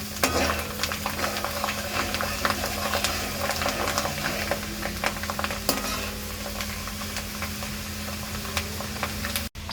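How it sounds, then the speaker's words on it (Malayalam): Two handfuls of garlic sautéing in hot oil for Kerala-style prawn pickle give a steady, dense sizzle with light stirring scrapes throughout, close and continuous, no voices. "2 പിടി വെളുത്തുള്ളി ഇട്ട് കൊടുക്കുക"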